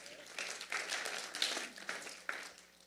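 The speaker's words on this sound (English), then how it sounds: "That's when you're supposed to applaud." An audience gives a brief round of light, scattered clapping that sounds faint and thin and trails off unevenly rather than swelling.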